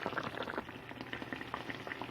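Salmon sauce simmers in a pan on very low heat, with soft steady bubbling and tiny pops that run on continuously, close up and quiet, with no voices over it.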